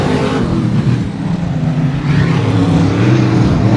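Race cars roaring down into turn three on the last lap at a local speedway, engines blaring loud and continuous with revving surges as the pack passes.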